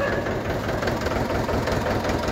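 A tractor engine runs steadily nearby, a loud, continuous low rumble and clatter with no breaks and no talking.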